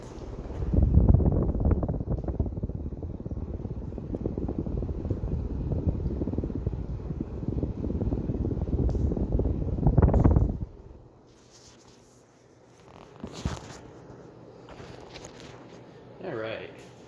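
A Casablanca Meridien ceiling fan running at its top setting, speed 6, gives a steady, loud whooshing rumble of moving air that cuts off abruptly around ten seconds in, leaving only faint low hum and a few soft noises.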